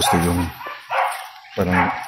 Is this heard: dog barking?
yes